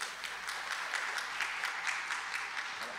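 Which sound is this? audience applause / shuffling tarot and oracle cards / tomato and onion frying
audience applause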